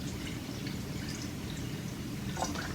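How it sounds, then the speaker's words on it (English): Purified water filling the cleaned chamber of an almond milk machine, a steady close pouring and dripping wash that runs evenly throughout with no talking. "So I filled it to the top line with the purified water"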